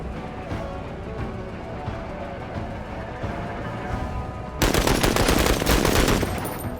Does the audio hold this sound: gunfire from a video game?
yes